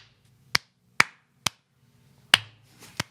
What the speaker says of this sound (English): Oh, we gotta clap, but that's just like for camera.